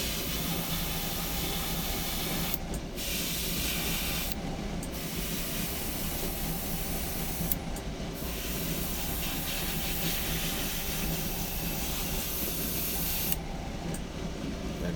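An airbrush sprays paint onto a wolf head in a steady, close hiss, broken by four short pauses as the trigger is released and pressed again.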